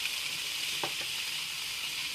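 Collard greens and oxtail in a hot pot give off a dense, even hiss of sizzling throughout, with a couple of brief stirring knocks near the middle, close and loud with no voices.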